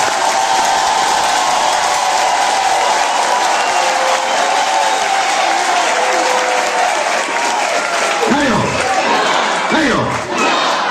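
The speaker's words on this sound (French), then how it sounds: "Si Jésus est plus puissant que la mort, acclame très fort pour Jésus." An Easter Vigil congregation in a church applauds and cheers loudly for Jesus. A dense, sustained roar of clapping mixes with shouting voices, staying near and intense throughout, with a few louder swells near the end.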